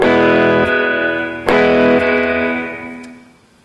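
Electric guitar with reverb plays a few loud strummed chords, their tails blurring together and decaying smoothly into a lingering wash at the end.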